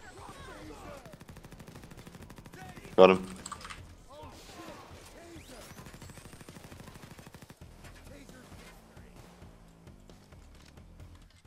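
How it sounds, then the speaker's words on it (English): Gunfire in the PAYDAY 2 video game, faint rapid bursts and a sharp louder volley partway through, under keyboard clatter and ongoing talk from players. "I just keep hearing this fucking shooting."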